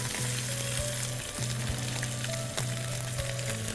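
Rui fish pieces fry in a pan of oil with a steady, dense sizzle that stays even throughout, alone with a faint background hum.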